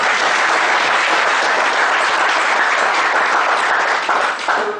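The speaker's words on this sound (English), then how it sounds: "So one more big round of applause." Loud, dense applause from an audience at a GST tax workshop session, steady clapping sustained throughout and easing slightly at the very end.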